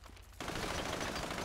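Enemy gunfire in the video game GTA V, a dense burst of rapid shots that starts abruptly and keeps going loud and continuous, with no talk over it.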